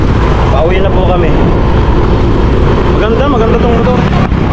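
Yamaha Mio 125 scooter riding along, a steady engine drone with road and wind rumble throughout, with people talking over it.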